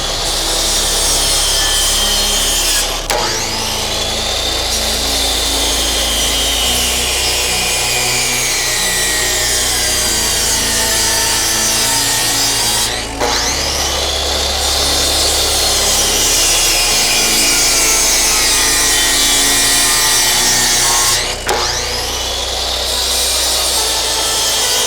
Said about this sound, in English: I'm just gonna sand them flat because I don't think one is big enough for this